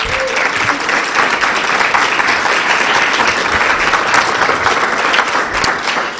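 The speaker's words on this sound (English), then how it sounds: "Let's give them another round of applause." Sustained, loud audience applause at a university performing arts hall of fame and awards event, honoring student performers and conductors. Many hands clap in a dense, even roar throughout, with faint crowd murmur beneath.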